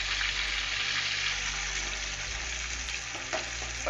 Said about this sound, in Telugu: వేడెక్కిందండి, ఇప్పుడు టమాటా వేసుకోవాలి